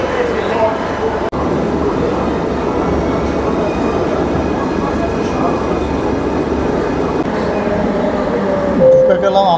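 Kolkata Metro train running between Dum Dum Cantonment and Jessore Road stations toward the airport, a steady loud rumble and rolling hum heard from inside the carriage, continuous throughout with a brief click near the start.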